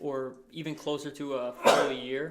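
Someone lets out a single short sneeze partway through, close and abrupt, breaking into ongoing conversational talk.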